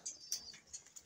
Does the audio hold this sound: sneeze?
no